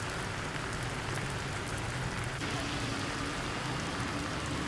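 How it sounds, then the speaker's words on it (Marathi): Heavy monsoon rain pours down in Mumbai during a red alert, a dense, constant roar, loud and unbroken, with no voices heard. "सकाळपासून पहाटेपासून मुसळधार पाऊस पडतो आहे"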